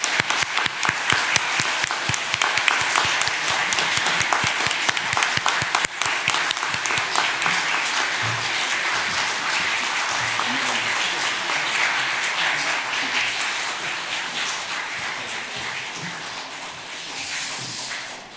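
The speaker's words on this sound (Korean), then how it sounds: "우리 목사님들 다 앉으실 때까지 박수로." A church congregation in a Korean worship service applauds steadily and loudly, a dense wash of clapping that lasts throughout and slowly fades toward the end.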